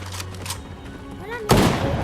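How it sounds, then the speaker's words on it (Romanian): Fortnite weapons fire in rapid bursts of game gunshots, with a loud blast near the end, under a player's intermittent talk. "Eu șut armele astea acum pentru că n-am ce să fac"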